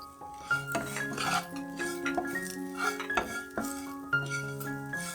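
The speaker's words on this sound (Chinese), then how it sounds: "将刚刚煎好的豆腐倒入锅里，然后加入1茶匙的盐和1茶匙的胡椒粉，炒一炒" Fried tofu is stir-fried in a wok with salt and pepper, a utensil clinking and scraping against the pan in uneven strokes over soft background music.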